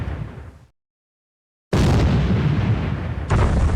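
Warship shells and torpedoes explode in a naval wargame, a booming blast fading out, a second of silence, then a loud sustained rumbling roar of further detonations.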